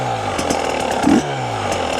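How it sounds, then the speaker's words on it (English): A motorcycle engine runs steadily at idle, then gets one quick throttle blip that swells and drops back within a fraction of a second, all close and fairly loud. "we're gonna give it a blip of throttle when we're compressing"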